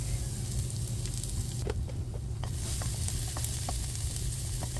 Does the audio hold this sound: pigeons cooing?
no